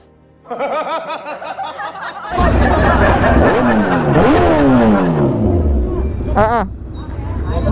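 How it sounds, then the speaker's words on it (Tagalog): Road traffic with motorcycles and cars in Bagong Silang, engines revving and passing close by, with rising and falling pitch sweeps, under laughter and talking voices. "Na-traffic na tayo dito."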